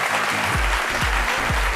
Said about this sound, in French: Merci de l'applaudir très très fort afin qu'il nous rejoigne sur ce plateau.